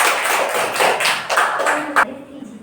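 Hand clapping in a children's classroom alphabet game: a run of close, sharp claps in an uneven rhythm that stops abruptly near the end, leaving quiet.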